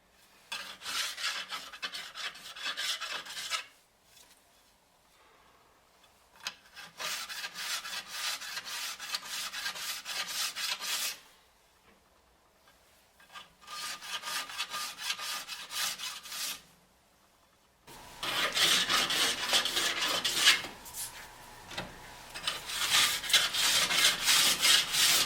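A Panzer file bevels the edge of a new ski near the tip, making loud rasping strokes in three long bursts separated by short pauses, with a heavier, harsher final burst.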